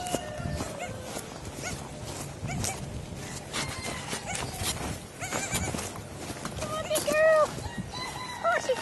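Baby goats bleat in a few short, scattered cries over faint background noise, with people talking softly nearby.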